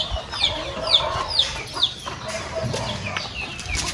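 Chickens at a breeder farm make nearby clucking calls, with several short squawks repeating over a low ambient background.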